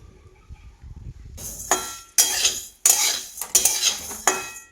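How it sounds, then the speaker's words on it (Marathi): Coriander seeds roasting in a pan with very little oil, stirred in quick bursts so the dry seeds rattle and scrape loudly against the metal, close up after a quiet start. "आता हे थोडे थोडे करून आहे ना सगळे धने भाजून घेते"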